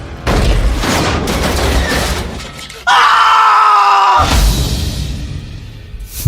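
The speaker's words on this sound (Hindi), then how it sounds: "उस अलमारी के अपने ऊपर गिरने से पहले वहां से हट नहीं पाया।" A heavy wardrobe topples onto a man with a loud crash and clatter, then a sustained high scream rings out alone before the crash noise resumes, everything close and loud.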